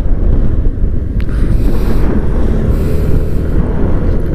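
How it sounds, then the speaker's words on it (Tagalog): Strong, steady wind roars and buffets a microphone on an open shore at San Nicolas, Pangasinan, with a low continuous rumble and gusting surges and no one talking. "Sobrang lakas ng hangin talaga."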